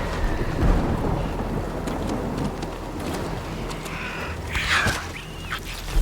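Heavy rain pours steadily and thunder rumbles through it in the video game Death Stranding, with a sharper crack of thunder near the end and faint bird calls in the wet ambience.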